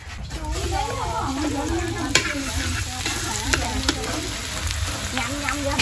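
Sausage fries in a pan with a steady crackling sizzle and occasional sharp pops and stirring scrapes, while people talk over it.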